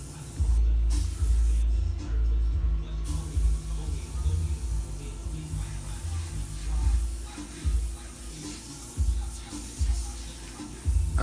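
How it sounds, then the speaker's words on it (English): An airbrush with its end cap removed sprays paint for flame artwork, a continuous close hiss that surges and eases in short bursts over a low background rumble. "I don't have the end cap on the airbrush"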